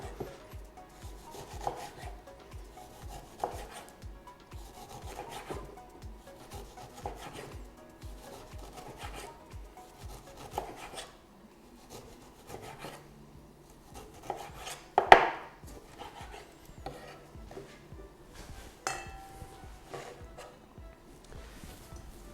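A knife peels and then dices a lemon on a wooden cutting board, giving a steady series of sharp chopping taps and rubbing scrapes, close up, with a louder knock near the end.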